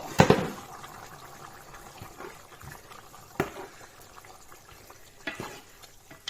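Chicken red curry with pickled bamboo shoots bubbles and sizzles in a pot. A loud stir-scrape opens it, followed by soft simmering and occasional clinks of utensils.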